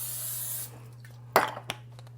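Cooking spray hisses onto loaf pans in a steady burst of about half a second, followed by a couple of light clinks of the pans over a constant low hum.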